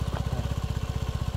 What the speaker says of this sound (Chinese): 然后放刹车，慢慢的油门加油门。